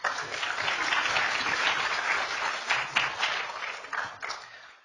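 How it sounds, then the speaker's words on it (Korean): Lecture-hall audience applauding to welcome a life sciences professor giving a Nobel Prize explainer talk, a full round of clapping that holds steady and then thins out toward the end. "큰 박수 부탁드립니다."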